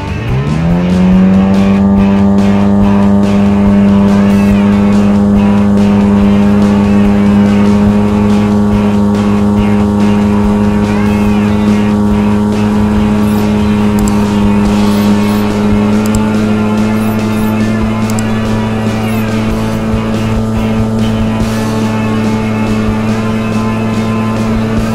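Motorboat with an 8 pitch aluminum prop held at full throttle, a loud steady engine drone close by that rises in pitch at the start and then holds high for the whole stretch.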